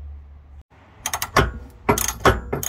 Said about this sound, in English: So we've got a 15/16 socket on the end of this, and we're driving it through.